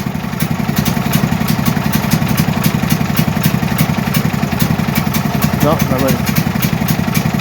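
A Duramax 8500 dual fuel generator engine runs loud and steady with a fast, even chugging throb while the throttle is adjusted, its pitch wavering slightly; a person speaks briefly over the engine.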